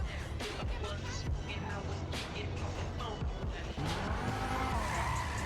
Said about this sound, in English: But now since the car is stanced, it'll effortlessly burn rubber.